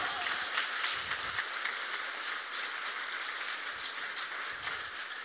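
A church congregation applauds steadily during a sermon, a dense, continuous wash of clapping throughout.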